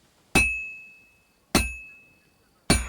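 Hammer blows on hot metal at a blacksmith's forge in Kingdom Come: Deliverance II: three evenly spaced, loud ringing clangs, each with a bright metallic tone that decays slowly into near silence.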